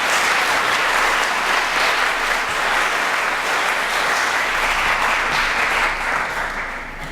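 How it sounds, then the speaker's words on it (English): A business event audience gives a sustained round of loud applause for Hal, dense continuous clapping from a large crowd that fades slightly toward the end. "A round of applause for Hal real quick"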